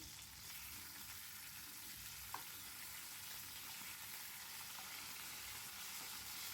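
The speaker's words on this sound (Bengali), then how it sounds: "ফ্রাই প্যানের মধ্যে সর্ষের তেল দিয়ে মাছগুলো আমি খুব সুন্দর করে ভাজা করে নেব" Fish frying in mustard oil in a frying pan gives a steady, hissing sizzle that holds level throughout, with one brief clink midway and no talking.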